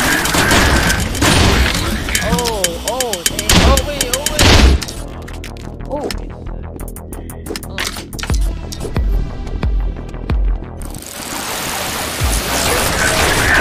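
Grenade blast and rapid gunfire in a shooter video game, loud booms and dense bursts of shots with clattering mechanical effects, while voices talk excitedly throughout.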